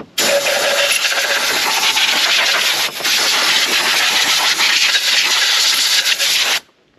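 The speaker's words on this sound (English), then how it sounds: "take some shop air and we're going to blow all the dirt off the top of this valve cover" Shop compressed air blows dirt off the valve cover of a 2011 Elantra engine. A loud, steady hiss lasts several seconds with one brief dip partway through, then cuts off sharply.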